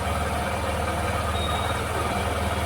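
A motorcycle engine that is due for servicing, running with a steady, close, low chugging drone and an even pulse throughout and no talk over it.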